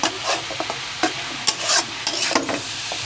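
Cabbage and prawns are stirred in a frying pan, with scraping spatula strokes coming in irregular bursts over a steady sizzle, close and fairly loud, with no voices.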